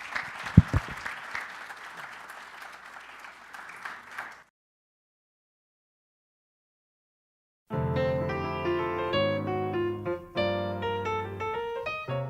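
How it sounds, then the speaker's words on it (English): An audience at a mayor's event gives a burst of applause that dies out into silence, followed by loud music. "So please give yourselves a round of applause as well."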